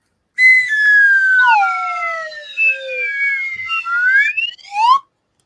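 A slide whistle is blown, sending out loud, clear gliding tones that swoop up and down in pitch across several breaths, close by and alone.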